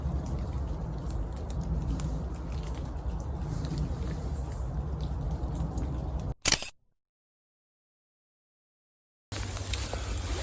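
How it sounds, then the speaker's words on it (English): Steady, dense patter of rain falling all around in woods, broadband hiss with low rumble, then a sharp cut to near silence before the rain resumes. "So it is raining quite a lot,"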